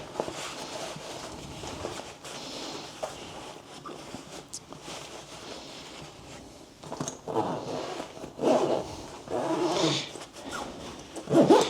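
An Aer City Pack 14L backpack being zipped up at close range, with rustling fabric and a few rasping zip strokes that grow louder toward the end.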